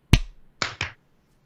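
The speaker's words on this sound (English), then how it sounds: "we're gonna do sync clap, so it'll be 1, 2, 3 clap" A sharp sync clap for a recording session rings out once, loud and close, followed by two softer, quicker claps in a row, with silence afterward.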